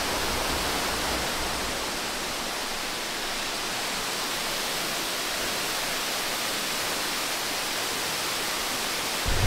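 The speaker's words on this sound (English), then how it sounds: "We have 5 waterfalls here." Waterfalls in Central Java, Indonesia, one of a group of five, pour with a loud, constant broadband roar that fills the scene without a break.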